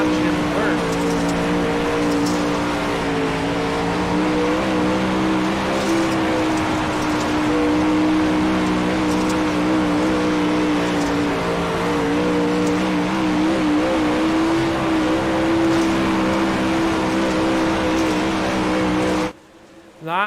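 Race cars in a heat race at Knoxville, including car number 38 running near full throttle, roar steadily with a loud sustained engine drone and shifting pitch throughout, with a commentator talking over it before a brief drop near the end.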